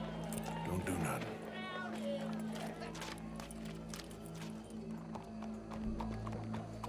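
Horse hooves clip-clopping at a trot in the Red Dead Redemption 2 video game, a steady rhythmic patter with a brief whinny, heard under continuous game speech and background hum.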